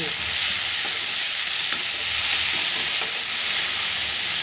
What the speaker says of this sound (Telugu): ఇప్పుడు ఒక రెండు మూడు నిమిషాలు బాగా ఈ ఆయిల్లో బాగా వేగనివ్వండి